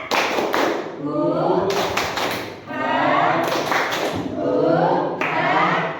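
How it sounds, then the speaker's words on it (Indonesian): A group claps in quick rhythmic bursts, alternating with loud chanting voices, in a lively, echoing room. "Coba kita tepuk semangat lagi. Tepuk semangat."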